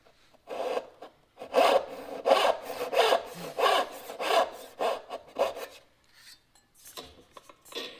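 Hand saw cutting wood, pressed hard with a thumb to correct a cut: steady rasping strokes in a regular back-and-forth rhythm, close and fairly loud, with a brief pause and a few lighter strokes near the end; no talking.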